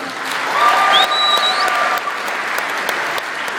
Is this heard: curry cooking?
no